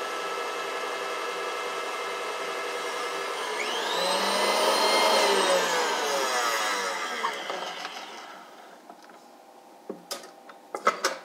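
Electric mixer whipping cream to soft peaks in a kitchen, a steady loud whirring drone that rises in pitch and intensity midway, then fades as the beaters slow, followed by a few clinks and taps.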